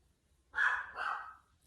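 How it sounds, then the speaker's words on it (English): A single close dog bark at a blower, sharp and loud, doubling into a second quick yelp against an otherwise quiet background. "Stop barking at the blower."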